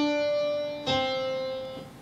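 A piano plays a descending major second: a sustained note rings, then a slightly lower note sounds just under a second in and fades gently, with no voices.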